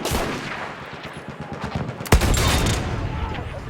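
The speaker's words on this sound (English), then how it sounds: "These big artillery guns." A big artillery gun fires in Battlefield 1, a single sharp heavy blast partway through, trailing into a rumbling tail over a backdrop of distant scattered battlefield gunfire.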